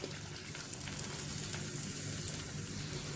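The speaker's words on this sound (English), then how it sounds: "now I am going to add the curd mixture in it" Curd mixture sizzling as it hits aromatic frying masala in a pan, a steady crackling hiss with light popping throughout.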